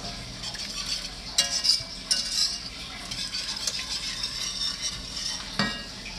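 Seafood boil sauce is stirred in a pot with a utensil, giving steady scraping and occasional clinks against the metal over a soft sizzle, close up and with no talking.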